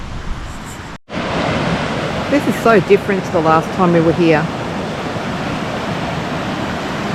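A creek in the Victorian High Country runs fast after floods and heavy rain, a broad, steady rushing roar throughout, with a person speaking over it partway.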